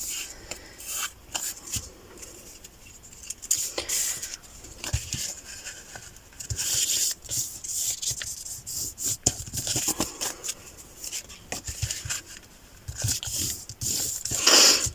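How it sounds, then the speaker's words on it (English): Paper pockets are folded in half by hand, producing soft, intermittent rubbing, creasing and rustling sounds close by, with no one talking. "So let's get folding and see what happens, and hopefully not rip it."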